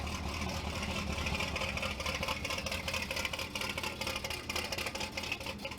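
A Ford Bronco engine idles steadily and loudly at close range, its rough, uneven rumble holding constant throughout with no pauses.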